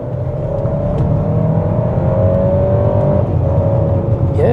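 An MG HS 1.5T turbo SUV accelerates hard, heard from inside the cabin: a loud, steady engine drone rises in pitch over a few seconds with road rumble beneath, and no talking.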